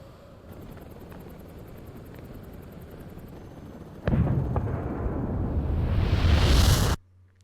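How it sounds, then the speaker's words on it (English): A big explosion in the video game Metal Gear Solid Delta: Snake Eater, a low rumbling roar that swells suddenly, builds into a loud rushing blast and then cuts off abruptly. "Big kaboom."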